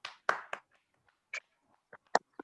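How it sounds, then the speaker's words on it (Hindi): Sparse, scattered claps from a small audience at a Hindi-speaking team leadership gathering, a handful of separate hand slaps spread unevenly with quiet gaps between them. "इन सभी के लिए एक जोरदार ताली होनी चाहिए।"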